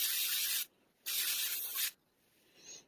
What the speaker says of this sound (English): I'll probably just take what's remaining on my gloves and just kind of rub it on there.